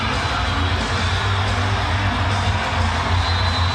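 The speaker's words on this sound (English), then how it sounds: "you can hear that 6th man, this Iowa crowd really getting into it now" A home crowd at an Iowa women's basketball game against Indiana late in a close contest: a loud, steady roar of cheering and shouting filling the whole stretch.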